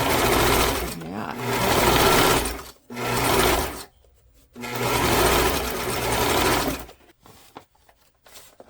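Sewing machine stitching journal signatures made of vintage pages, a steady close mechanical whir running in several bursts of a second or two, separated by short pauses and ending in a few light clicks.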